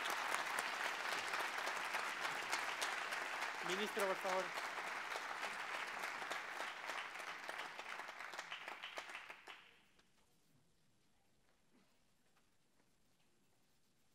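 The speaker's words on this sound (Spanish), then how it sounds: "un gran aplauso." An audience applauds after a political debate, giving dense, steady clapping for about nine seconds that then stops abruptly into quiet room tone. A voice speaks briefly over the clapping.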